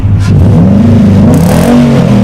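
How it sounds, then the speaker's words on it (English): A 2011 Nissan Titan Pro4x with a MagnaFlow cat-back exhaust revs hard up close, its deep, loud exhaust note rising and falling through a couple of throttle blips. "these are MagnaFlow catback exhaust. Amazing sound."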